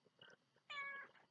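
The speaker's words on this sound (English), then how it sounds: "Rin's been meowing since I got back because he's missed me." A pet cat named Rin gives one drawn-out meow, clear and fairly close, after quieter indoor background sounds.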